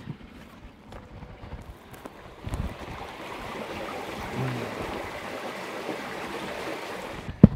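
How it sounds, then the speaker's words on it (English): Water draining out of a flooded rice field into a pool area after the pump has been shut off, a soft steady trickling rush heard close by and alone, growing slightly fuller midway. "water is now flowing back out of the field into this pool area because now the pump's been off"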